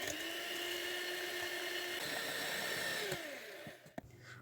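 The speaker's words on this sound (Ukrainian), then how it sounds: "Всипаю цукор та продовжую збивати." An electric hand mixer whisks eggs with sugar, a continuous high whirring motor whine that shifts pitch slightly partway through, then slows and stops with a few clicks near the end.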